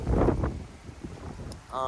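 Gusty wind buffeting an outdoor microphone on a walk, a loud low rumble at the start easing to a softer blustery roar, then swelling again at the end.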